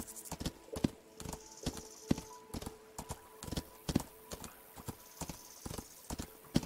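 A horse's hooves clip-clop in the game Rising World, steady even footfalls at close range in a walking rhythm with no talk over them.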